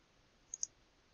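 Two crisp computer mouse clicks, close together and quiet, on an otherwise near-silent background while creating a new metric file in CAD software.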